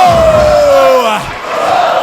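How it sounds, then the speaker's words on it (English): A loud wrestling arena crowd roars and cheers in a sustained wall of voices, with a falling whistle-like tone sweeping down through the noise. "The crowd ready for Alessandro Del Bruno"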